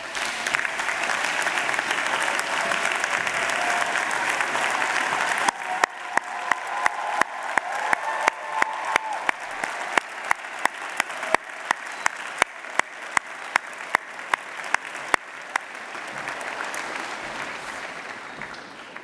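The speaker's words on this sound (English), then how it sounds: "now would be a very good time to stand up and give them an absolutely massive round of applause" A graduation ceremony audience at Central Saint Martins bursts into sustained applause, a dense wash of clapping that grows sharper and more distinct as it continues for many seconds before tapering off.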